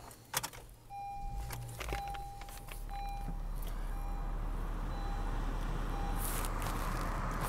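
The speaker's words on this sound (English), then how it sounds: "let's start her up" A 2020 Honda Civic LX starting inside the cabin: keys jangle, a chime beeps repeatedly, then the engine catches and settles into a steady, quiet idle hum.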